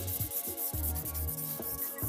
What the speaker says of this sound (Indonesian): Setelah itu kita amplas menggunakan amplas yang halus.